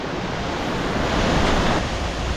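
A big waterfall at Big Falls in Washpool National Park, New South Wales, pours into a deep pool, heard as a loud, continuous broadband roar of rushing water close by.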